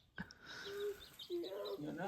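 Baby chicks in a brooder give a few faint, high, thin peeps, brief and close, in a quiet indoor space.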